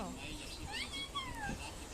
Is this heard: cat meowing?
yes